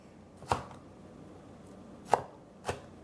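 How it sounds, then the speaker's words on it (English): Three sharp knife chops through tomatoes on a cutting board while making a BLT pasta salad, spaced irregularly with the last two close together, near and fairly crisp over a quiet kitchen. "So I'm just gonna keep chopping these tomatoes."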